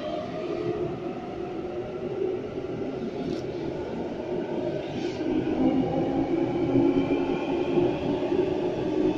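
A steady low rumble of a Sydney train departing a station platform, with a faint metallic squeal now and then, building slightly toward the end.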